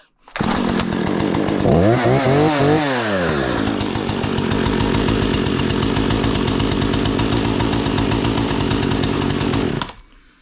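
A Husqvarna chainsaw is pull-started: a few quick rising revs as it catches, then the engine settles into a loud, close, steady running drone before cutting off abruptly.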